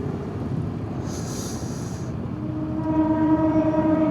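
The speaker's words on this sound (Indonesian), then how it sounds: "Kayaknya ada kereta mau lewat" A train passes near a road in Indonesia, a loud steady rumble of wheels on rail with a high horn blast partway through, then rising tonal wheel screech as the cars roll by.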